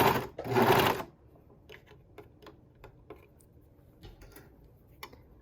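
A serger stitches and trims a fabric cuff with the hot ham method, making a loud, close burst of machine whirring for about a second, then stopping and leaving quiet scattered ticks and small clicks.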